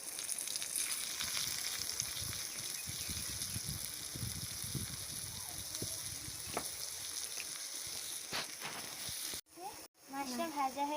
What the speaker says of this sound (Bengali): মাছগুলো দিয়ে ভেজে নেব